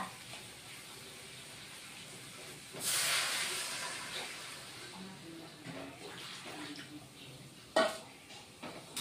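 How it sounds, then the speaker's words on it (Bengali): Water pours into a pot of thin snakehead fish curry, a broad hissing splash that lasts a few seconds before easing into a quieter simmer with small clinks. "জল দিয়ে দিলাম।"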